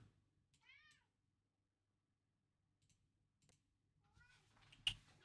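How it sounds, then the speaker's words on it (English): A pet cat in a house meows twice with a few seconds of quiet between, faint and rising-falling, and soft keyboard clicks and a sharp tap scattered around the calls. "Hello, little kitty cat. Everybody hear him?"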